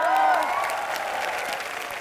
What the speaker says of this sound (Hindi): जोरदार तालियां और एक बार।